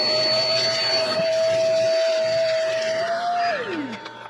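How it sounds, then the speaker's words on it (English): Loud, steady whine of a vacuum cleaner close by sucking out debris inside a ranch building, holding one pitch before dropping off as it is switched off near the end. "I'm gonna vacuum this bottom stuff and what I can, a little bit there"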